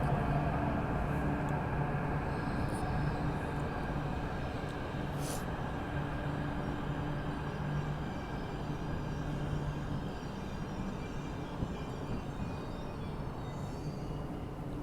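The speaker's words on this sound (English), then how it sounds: "Another Q train." A metro train rumbles steadily at an underground platform at Wan Chai Station, Hong Kong, with broad noise and hum filling the space at moderate distance, and a brief hiss partway through.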